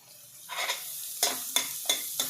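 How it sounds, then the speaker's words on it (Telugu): Finely shredded cabbage frying in butter for Bombey-style pav bhaji, with four or five distinct bursts of sizzle and spatula scrapes as it is stirred, fairly close and without talk. "అది కూడా ఫ్రై అవ్వాలన్నమాట బటర్లో ఇలా వేగుతూ ఉంటే"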